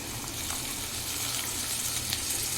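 Chopped onion and green peas hit hot oil in a pan for Maggi noodles, giving a steady, close, even sizzle that hisses on throughout with no voices.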